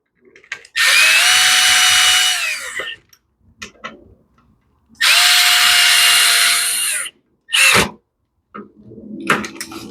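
A lawn mower that starts only with starter fluid runs in two loud, steady bursts of engine noise, each several seconds long and cutting out. A short third burst follows, with clatter in between.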